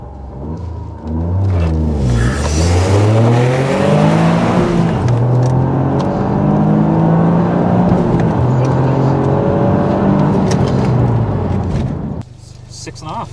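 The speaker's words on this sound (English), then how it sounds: "We're going to launch a bit harder this time." Toyota GR Yaris launching hard in track mode, a loud engine roar climbing through gears with strong rising sweeps, heard from inside with voices over it.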